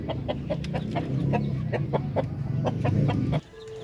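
A Darag native chicken rooster and other chickens cluck in a steady run of short, repeated calls over a low rumbling background, close by, stopping abruptly near the end.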